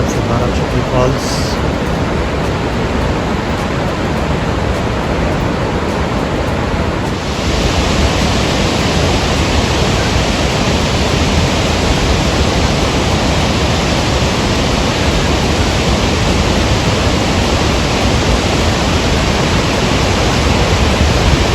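Barachukki waterfall in Karnataka seen from closer up, a loud, steady roar of falling water that fills the whole stretch with broadband rushing noise and shifts slightly partway through.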